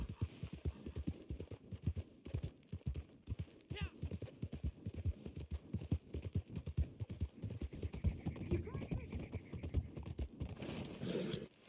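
Horse hooves clip-clopping at a steady trot in the Red Dead Online video game, a rapid, even rhythm of close, moderately loud hoofbeats throughout, with a brief whinny and someone talking over it.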